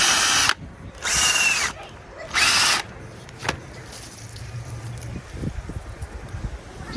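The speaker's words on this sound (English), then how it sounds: "Awesome auger bit, makes very light work. Goes right through the dirt." Power drill fitted with an auger bit boring holes in garden dirt for fall garlic planting, three loud whirring bursts of under a second each, then quieter rustling and scraping as the soil settles.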